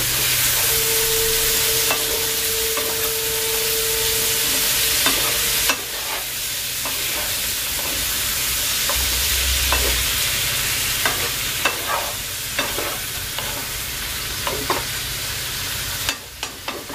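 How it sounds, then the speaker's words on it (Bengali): Ridge gourd mixed with salt and turmeric being stirred in a pan, a soft ongoing sizzle under repeated scraping and clinking strokes of a spatula against the metal, close and steady with no talking. "এবার আমি ভালো করে নাড়াচাড়া করে ঢেকে দিলাম।"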